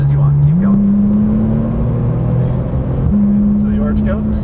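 Porsche Turbo engine pulling hard under acceleration, a steady strong drone rising in pitch, shifting, then climbing again, close and loud, with an instructor talking over it.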